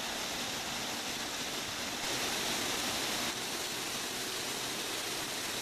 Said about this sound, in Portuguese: Aqui é o ponto que o Ribeirão dos Negros cai dentro do lago.